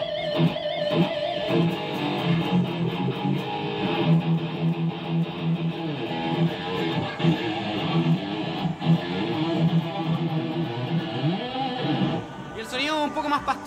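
Electric guitar with a Seymour Duncan neck pickup plays a warm, thick, vintage-toned riff, loud and steady throughout, with a brief higher flourish near the end.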